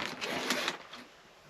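A shower curtain is slid round on its rail in a tiny Airstream caravan bathroom, a short rattling scrape of hooks close by that fades out after about a second.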